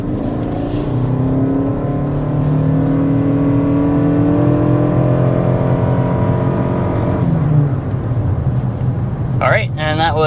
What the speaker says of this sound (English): But first, we're going to go ahead and start with a hard acceleration.